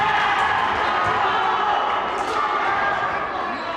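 Crowd of spectators roaring and cheering steadily throughout at a high school boys volleyball match in a gym, a loud dense wash of voices with no single caller standing out.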